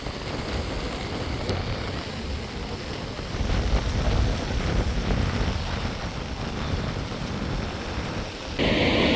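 Heavy rain pours steadily during a flood, with gusting wind buffeting the microphone into a dense, roaring wash of noise and no voices.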